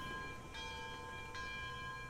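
A locomotive bell in the Railroads Online train game, two quiet metallic bell strikes about a second apart over a faint steady rumble.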